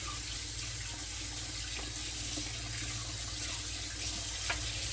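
Cold water runs steadily from a kitchen sink tap, a continuous, even splashing rush close by. No talking is heard.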